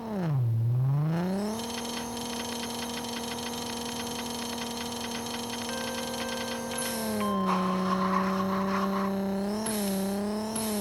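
A Mazda RX-7 in the mobile drag game Racing Rivals roars through a synthetic engine sound that dips, climbs and holds a high whine, then shifts down and back up, steady and unaccompanied by talk.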